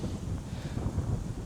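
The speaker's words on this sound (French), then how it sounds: "Si vraiment le vent est trop fort et fait qu'on m'entend pas très bien." Strong wind buffeting a microphone outdoors on a walk, a continuous low rumbling roar with uneven gusts and no voices.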